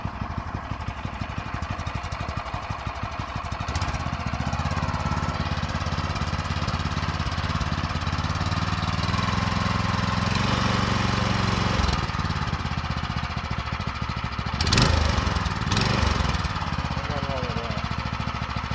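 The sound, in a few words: go-kart engine running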